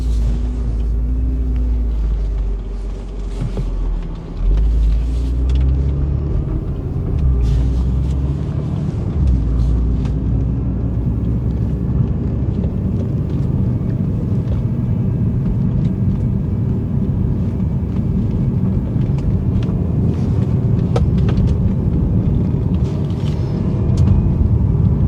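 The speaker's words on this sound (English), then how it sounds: "So come on, let's have a drive." A car driving on roads in Spain gives a steady, loud low rumble of engine and tires that holds throughout, without speech.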